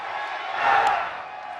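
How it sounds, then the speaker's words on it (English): A home crowd at a college baseball game between Florida State and Florida rumbles and jeers at a player after his error, a brief swelling roar of voices that peaks and fades. "Home crowd letting him have it"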